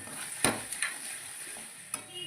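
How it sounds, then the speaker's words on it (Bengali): Fried potatoes and eggs are stirred into masala in a pan: a soft, low sizzle with a few sharp spatula clinks and scrapes, one near the start and another later, no talking. "এরপর আমি দিয়ে দেবো আলু আর ডিম ভেজে রাখা। সামান্য 2 মিনিট নাড়াচাড়া করে"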